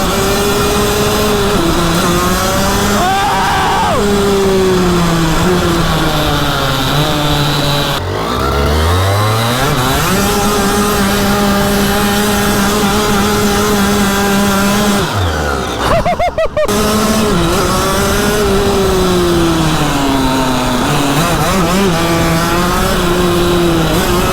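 A mini Porsche GT3RS's small engine rises and falls in pitch as it accelerates through gears, with a loud buzzing, chainsaw-like drone, two sharp drops at the shifts, then renewed climbs.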